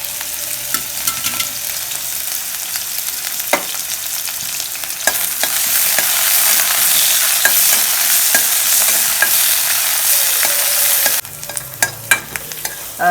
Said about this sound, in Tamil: இது போட்டு வணக்கிக்கலாம்.